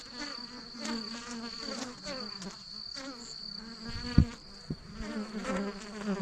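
Honey bees buzz steadily around a hive as they return carrying yellow pollen on their legs, a dense close-up hum of many insects with a few brief louder passes near the end.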